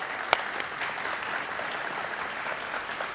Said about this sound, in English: I want to give a huge round of applause to Mike and Scott